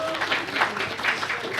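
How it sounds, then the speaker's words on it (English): Brief clapping from a lecture audience applauding sponsors at an NYU Game Center event, a moderate patter of hands lasting under two seconds, fairly close. "Round of applause for our sponsors"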